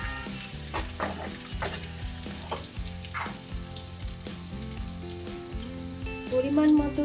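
Turmeric hits hot oil in a pan with a bright, crackling sizzle over a steady hum, scattered spattering pops and stirring scrapes, fairly close and moderately loud, with a brief tonal ring near the end.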